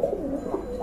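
A male blue Rajgolla pigeon gives a short, deep rolling coo, close and clear, with no talk.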